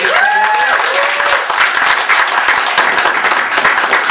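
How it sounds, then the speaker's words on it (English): An audience at a Fairness Campaign history panel on trans inclusion breaks into loud, dense applause for a panelist, with a few brief cheers or whoops near the start. "please give a warm round of applause to Beth Harrison Prado"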